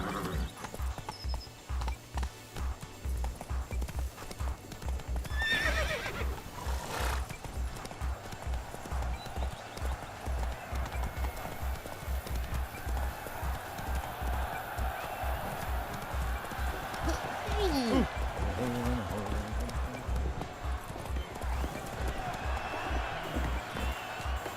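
Horse galloping in The Witcher 3 video game, with steady, rhythmic hoofbeats pounding throughout and faint ambient sounds behind them.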